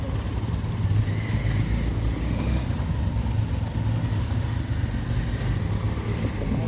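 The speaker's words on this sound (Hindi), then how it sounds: "पूरा खतरनाक ट्रैफिक हुआ है।" Heavy road traffic of cars and motorcycles passes on a road near Diphu in Karbi Anglong, a continuous low engine rumble with passing motors and no clear talk.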